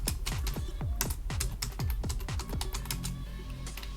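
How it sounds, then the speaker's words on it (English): Fast, steady clicking of a computer keyboard as text is typed in capitals, with crisp close keystrokes and no speech. "Let's just type some text in capitals."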